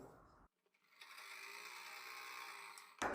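Steady whirring run of a sewing machine stitching the leg of a salwar, close and fairly quiet, starting after a short pause and stopping abruptly near the end.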